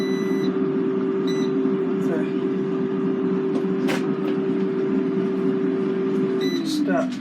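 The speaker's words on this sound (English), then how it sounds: "Why is this beeping?" An air fryer gives several short, high electronic beeps, spaced out over a steady low hum.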